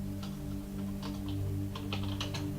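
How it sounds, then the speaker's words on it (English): Fingers type steadily on a computer keyboard, quick light key clicks in irregular bursts, close and clear over a faint steady hum, with no voices. "I would just type in some of the information about it"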